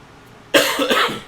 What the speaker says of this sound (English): I have a persistent cough.